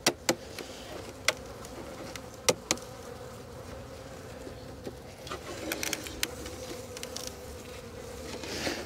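Agitated honey bees hum inside an orchard apiary hive, a continuous low drone close by, broken by several sharp clicks and knocks from handling the hive.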